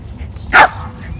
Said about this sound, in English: Gets the last bark in